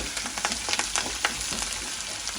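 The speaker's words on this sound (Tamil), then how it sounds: "இதே போல் கருவேப்பிலை போட்டு நல்லா மிக்ஸ் பண்ணி" Curry leaves being stirred and fried in a pan, steady close sizzling with scraping stirring strokes and no talk.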